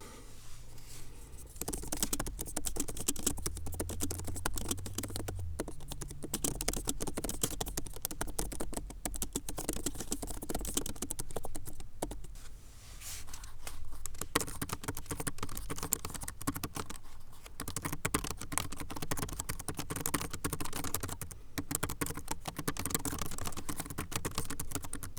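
Steady, continuous typing on a Framework 12 laptop keyboard, with dense, even clicking that runs close and moderately loud for the whole stretch, with no voices.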